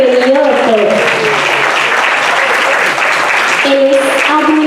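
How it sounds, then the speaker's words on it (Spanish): Sustained crowd applause fills the clip, a dense steady clapping with a voice speaking over it near the start and again toward the end. "Fuerte el aplauso"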